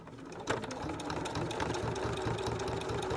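A sewing machine stitches fabric for a wrestling gear belt in a steady, close, rapid mechanical rhythm, with no talking over it.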